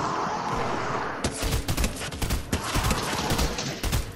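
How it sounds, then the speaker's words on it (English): Video game gunfire during a duo match: after a steady hiss, a rapid irregular series of sharp shots and bursts, fairly loud and continuing to the end. "someone's shooting us"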